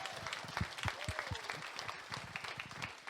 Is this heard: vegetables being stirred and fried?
no